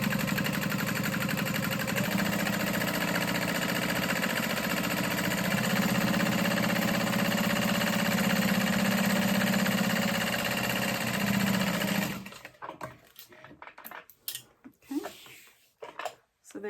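A sewing machine drones steadily and loudly for about twelve seconds while stitching a backpack strap for a Bobby backpack, then stops, leaving scattered handling clicks and rustles.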